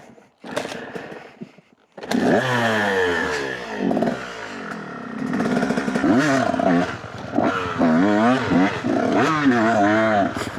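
A dirt bike engine fires up and runs with a rough, rising roar and uneven revving blips after a short pause of silence, loud and close, recorded outdoors in an abandoned Florida neighborhood.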